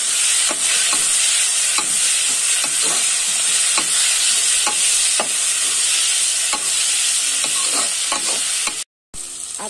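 Tomatoes and cabbage stir-fry in a pan for street-style veg chowmein, a steady loud sizzle broken by repeated scraping strokes of a spatula, ending in a brief silent gap.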